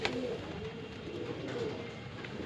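Shahjahanpuri breed pigeons, kept as breeding pairs, coo softly at close range, a few low, rounded calls over a quiet background with no talking.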